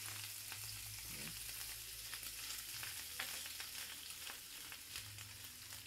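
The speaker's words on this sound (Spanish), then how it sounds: "Que se fría muy bien, porque el chorizo suele tener bacterias." Chorizo frying in oil in a pan, a steady close crackling sizzle with scattered pops and occasional stirring scrapes, no talk.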